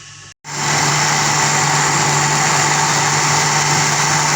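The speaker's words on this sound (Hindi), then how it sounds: "अब अच्छे तरीके से इसको मैं ग्राइंड करूँगी।" Electric blender grinding a banana milkshake with milk: it starts abruptly after a short silence and then holds a loud, steady, high-pitched whir close by.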